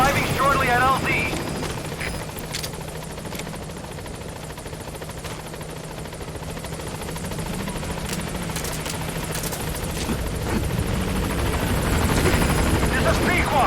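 A helicopter in the video game Metal Gear Solid 5 arrives at a landing zone, its rotor chopping and engine droning loud and steady throughout, with radio voices speaking over it.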